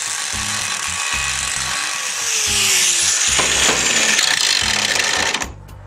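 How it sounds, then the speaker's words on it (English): An angle grinder with a cutting wheel bites into 2-inch angle iron, a harsh, loud, close whine that rises as the cut deepens and then cuts off abruptly, over a low rhythmic hum. "I'm cutting up some pieces of angle iron here and just using my grinder with a cutting wheel"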